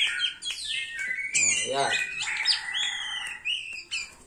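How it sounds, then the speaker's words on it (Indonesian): An oriental magpie-robin (kacer) perched on a hand sings loudly and close, with rapid chirps, whistled trills and harsh scolding notes, while someone speaks briefly over it. "bikin kacer yang cuman jinak aja jadi gacor di tangan"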